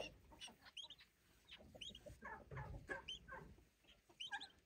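Several chickens cluck in short, irregular bursts nearby, their calls overlapping against a quiet background.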